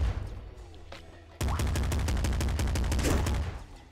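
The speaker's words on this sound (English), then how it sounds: "Oh my gosh, machine gun. I guess I'll do machine gun, right?" Machine gun fire in the video game Nuclear Throne, a quieter stretch giving way to a sudden loud, rapid stream of shots lasting a couple of seconds before tapering off.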